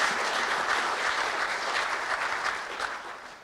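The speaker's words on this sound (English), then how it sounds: "just one big round of applause for everybody" Audience at a Pittsburgh regional talent pipeline signing day event applauding, a full, steady round of clapping from many hands, fairly close and sustained without a break.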